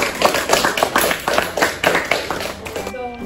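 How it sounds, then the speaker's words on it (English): A small classroom audience of sixth graders claps for a student's how-to demo, with quick, uneven handclaps close by that taper off near the end. "Give her a round of applause."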